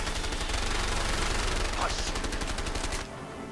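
Rapid 9 mm gunfire from the video game A Way Out, a dense run of close, loud repeated shots lasting about three seconds before cutting off, with a brief voice murmur underneath.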